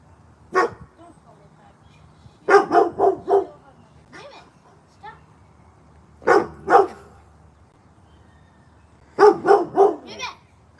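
A dog barks in quick clusters of two to four loud woofs, separated by pauses, close to the listener.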